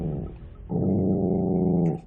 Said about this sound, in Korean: 그리고 시작된 으르렁.